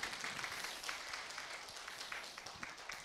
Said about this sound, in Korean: 사무관님들 위해서 박수를 한번 쳐주시면 고맙겠습니다